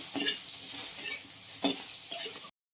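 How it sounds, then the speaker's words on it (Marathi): Onion and tomato with a pinch of salt frying in a pan, a close steady sizzle broken by a few scraping stirs before cutting off abruptly. "मग टोमॅटो टाकायचं आणि थोडंसं मीठ टाकून आपल्याला हे भाजून घ्यायचं"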